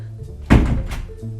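A door closes with a single solid thunk indoors, close to the microphone, followed by a brief settling rattle.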